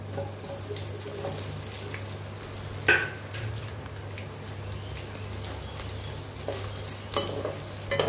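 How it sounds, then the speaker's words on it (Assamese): Okra frying uncovered in mustard oil in a kadai with turmeric: a continuous close sizzle with a low steady hum beneath and a couple of sharp clatters of utensils. "এনেকৈ মই ভেন্দিখিনি ফ্ৰাই কৰিম"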